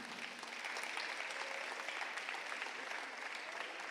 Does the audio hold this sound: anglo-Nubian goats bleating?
no